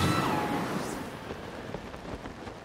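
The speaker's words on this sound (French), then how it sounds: "Oh non, mais il pleut." Rain and thunder in the Animal Crossing video game. A loud wash of rain starts heavy and eases slightly, with scattered droplet ticks and soft low rumbles, and no voices.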